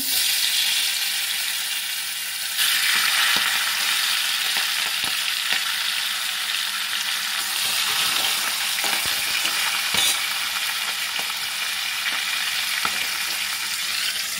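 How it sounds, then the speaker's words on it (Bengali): A fish head rubbed with salt and turmeric fries in hot oil, giving a loud, dense, continuous sizzle up close, with a few soft clicks and spatula taps scattered through it. "নুন হলুদ মাখানো মাথাটা আমি ভেজে নেবো।"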